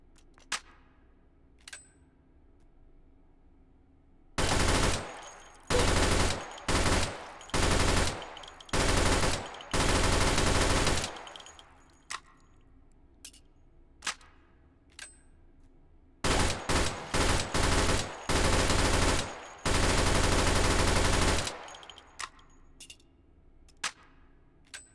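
Automatic gunfire in the VR shooter Hot Dogs, Horseshoes & Hand Grenades, loud repeated bursts of rapid shots in two clusters separated by a quiet pause, with faint clicks and handling noises between.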